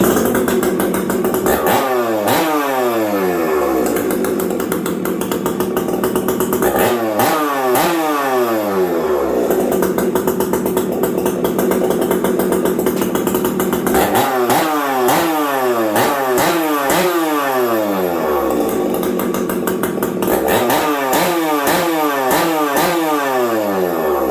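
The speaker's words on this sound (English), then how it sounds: "it's pulling that exhaust out, and it's really doing something nice to the saw" A 365 chainsaw fitted with a UFO exhaust pipe screams loudly up close, revving hard in four repeated bursts that rise sharply and drop back between each pull, with no voices.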